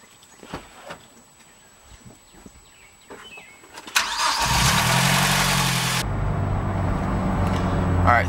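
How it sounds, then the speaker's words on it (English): Mazdaspeed3 turbocharged engine with a Turbo XS blow-off valve vented to atmosphere: soft clicks and a faint voice at first, then a sudden loud roar with a broad hiss for about two seconds, settling into a lower, steady engine drone. "This is a run with the new Turbo XS blow-off valve."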